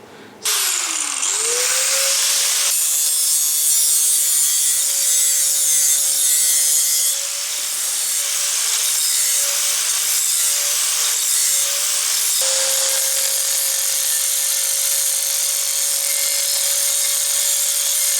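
A loud, steady grinder whine runs nearly continuously, spinning up at the start with abrasive rasping, briefly dipping and resuming as it grinds down weld edges on a steel wheel.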